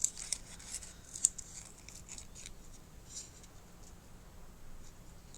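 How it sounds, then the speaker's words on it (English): Scissors snipping around paper for a handmade matchbook recipe album, a few faint crisp cuts spaced irregularly over quiet room hiss. "cut a little bit more off that, so it looks old and battered. Let's just cut round that."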